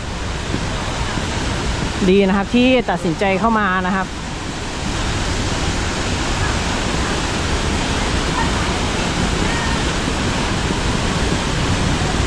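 A strong waterfall pours between rocks with a steady broad roar, and someone speaks briefly over it near the start.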